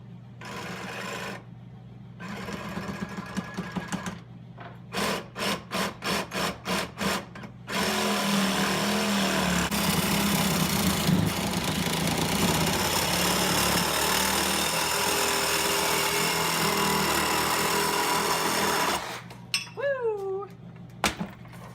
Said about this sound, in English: Just gonna cut some pie cuts out of this 3-inch exhaust here.